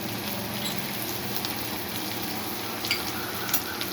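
Masala sautés in a pan for prawn fry, with a dense, even sizzle and faint crackle throughout and a couple of small stirring taps near the end.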